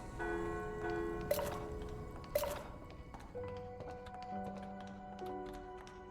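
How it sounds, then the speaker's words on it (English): Two bright metallic bell strikes ring out in a cave area of the Little Witch in the Woods video game, each with a short decay, set against soft game music and light ticking sounds. "let me go ring this bell."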